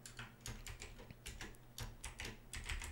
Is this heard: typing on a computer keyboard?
yes